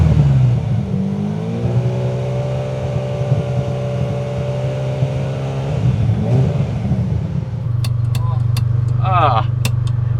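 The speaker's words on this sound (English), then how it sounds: "It's a very, very deep engine." A deep Ferrari 456M GT Scaglietti V12 engine revs and holds a low rumble, rising in pitch, then settles to a steady idle with clicks and brief higher whines near the end.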